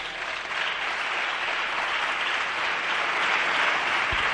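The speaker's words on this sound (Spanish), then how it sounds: "Recibe algunos aplausos" Sustained applause fills a session of the Spanish parliament, a dense, even wash of many hands clapping at steady volume for the whole stretch, without speech.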